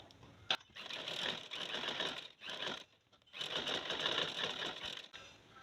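A sewing machine stitches around a shirt neckline in quick rapid bursts, running in several short stretches with brief pauses between them, close but soft.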